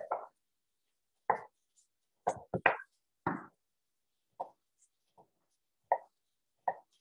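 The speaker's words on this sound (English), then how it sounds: "I'll put those in the pan with the onions." Pieces of vegetable dropped into a pan with onions, giving close, distinct plops and knocks in irregular clusters between silences, with no talking.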